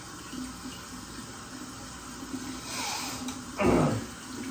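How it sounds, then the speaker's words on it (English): Water runs from a tap with a soft steady hiss, then a louder splashing gush near the end as hands pass under the stream. "you can then turn on the faucet and rinse off"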